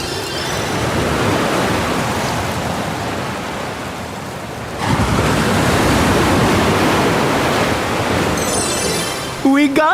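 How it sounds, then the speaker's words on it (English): Loud, continuous rushing water of a flash flood, a dense roaring wash that swells partway through. A brief tonal sound cuts in near the end. "It looks like a flash flood."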